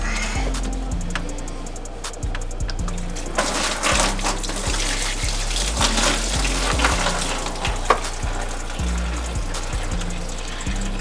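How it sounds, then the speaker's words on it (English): Fluid drains from a disconnected radiator hose on a Dodge Grand Caravan into a pan during alternator replacement work: a continuous trickling and splashing with occasional clanks, close and fairly loud. "I'm probably going to lose some fluid here."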